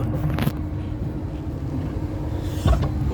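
A steady low rumble inside a moving sleeper-car express train from Bangkok, with a couple of brief clunks and rattles from the carriage.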